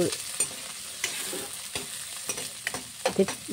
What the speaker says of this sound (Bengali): তেল গরম হয়ে গেছে কড়াইতে, দিয়ে ওতে কুচু